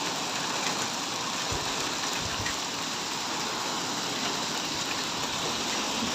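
Hail pelting down in Saudi Arabia, a dense, steady hiss of ice striking surfaces throughout, with a few low thumps near the start and no voices.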